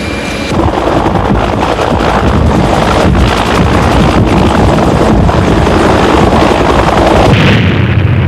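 A Bell UH-1 military helicopter, the Vietnam-era Huey, beats its rotor loudly and close by, a continuous heavy chopping thump with engine whine, steady throughout with no voices.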